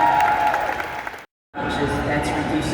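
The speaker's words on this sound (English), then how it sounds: "Y'all clap it up for Debbie." A podcast festival audience applauds a speaker with dense, steady clapping. It cuts out for a moment, then resumes, with voices mixed into the crowd noise.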